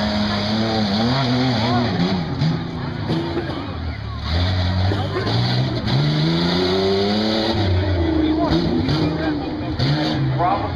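A DDF racing truck at the Buck motorsports venue, 2013, driving hard: a loud, steady engine roar with rising and falling revs, under continuous commentary.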